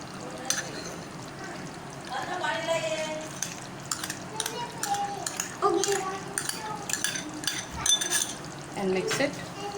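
Cream being stirred into a pot of chicken malai handi, with steady scraping and clinking of a utensil against the pan over a light sizzle, close and moderately loud.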